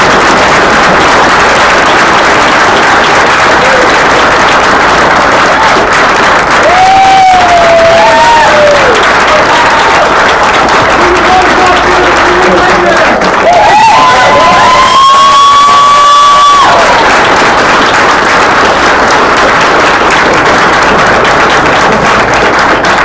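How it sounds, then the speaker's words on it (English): A large presentation audience applauds a game development team, with loud, dense, sustained clapping and cheering, whoops and shouts rising over the continuous roar. "please give a round of applause to these people"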